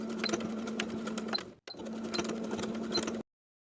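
A sewing machine tacks the upper edge of a shorts cuff fold at the side seam and inseam in two quick, close stitching runs with a brief stop between them, then falls silent, with no voices.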